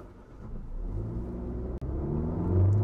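A SsangYong Torres 1500cc engine turns over and catches, settling into a low steady rumble that rises slightly near the end, close by.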